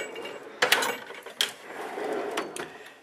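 Ratchet wrenches being handled and shifted in a metal toolbox, giving a few sharp metallic clicks and clacks close by, with quieter rattling in between and no talking.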